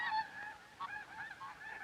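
Several snow geese call in the Arctic tundra nesting grounds, overlapping nasal honks coming in quick succession at moderate distance.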